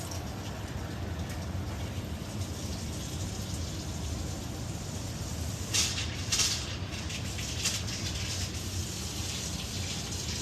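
Domestic hot water runs steadily from a tap on a faulty household boiler system, a continuous broadband rush of flowing water lasting throughout, with a few brief louder splashes midway and no talking.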